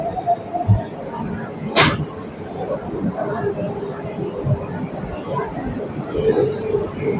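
Busy din at Sealdah railway station, Kolkata: a steady wash of crowd murmur and rolling rumble of luggage trolleys, with a sharp high hiss or squeal rising briefly near the start.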